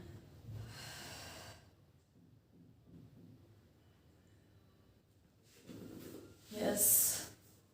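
During a Pilates session with a small ball, a person exhales in two forceful, breathy gusts, the second louder and closer, separated by quieter breathing and rustling.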